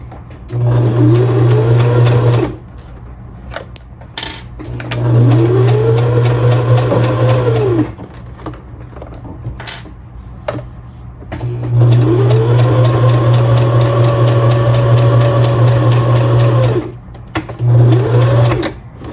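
A sewing machine stitching a quilted fabric tag runs in several bursts of rapid, steady whirring, separated by short pauses with faint handling sounds, close and loud.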